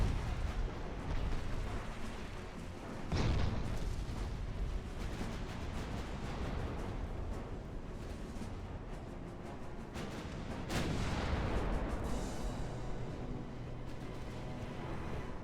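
Battleship guns fire on a destroyer in the naval warfare game Ultimate Admiral: Dreadnoughts, two heavy booming salvos several seconds apart over a constant low rumble of sea and engines.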